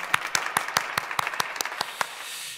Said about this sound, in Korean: 우리 하나님께 영광의 박수를 돌려드리겠습니다